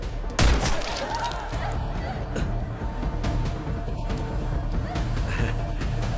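A gun loaded with dummy bullets goes off in a Tamil action movie scene, a loud sharp report near the start followed by a dense, rumbling bed of score and background sound.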